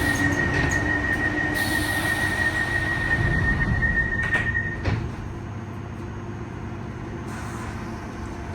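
A London Underground Piccadilly line train rumbles northbound with a high, sustained wheel squeal, then the noise drops to a quieter steady rolling hum.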